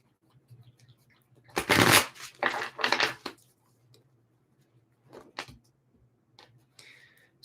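Tarot cards shuffled by hand during a yes-or-no reading, a loud riffling burst followed by a few shorter shuffles and soft card taps, then quieter rustles, with no talking.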